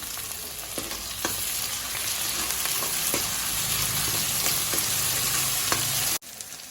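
Onions sizzle steadily in a pan with ginger garlic paste, a continuous close frying hiss broken by a few soft utensil clicks, then cutting off abruptly near the end.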